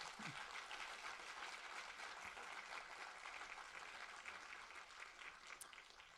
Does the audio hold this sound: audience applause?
yes